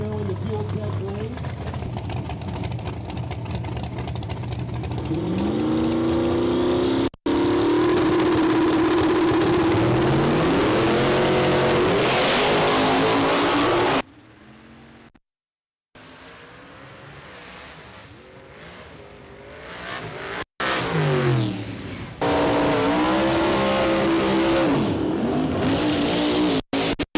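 Drag racing cars at a live event in the Fuel Tech lane, one powered by a Brothers Paladino engine, roar and rev hard in loud bursts separated by brief gaps, with an announcer talking over much of it.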